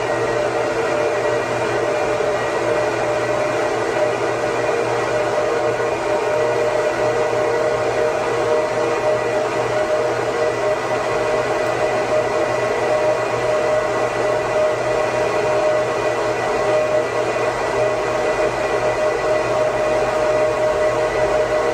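Fans in a 2009 Apple Xserve server spin at 10,000 RPM, making a loud, constant, high-pitched whirring roar that holds steady without a break.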